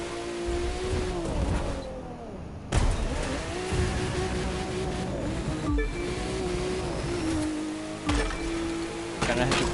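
A sports car engine roars through a street race in the driving game The Crew 2, revving steadily and loud with gear shifts and brief dips, close and continuous throughout.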